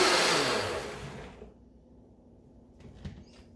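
A kitchen mixer blending tomato sauce whirs loudly at first, then winds down and cuts off after about a second and a half, leaving a faint low hum and a few small knocks.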